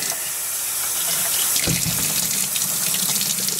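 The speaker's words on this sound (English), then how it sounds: "So I can rinse this jug out." Tap water running into a jug as it is rinsed out, a steady splashing gush that grows fuller partway through, close and alone without any talk.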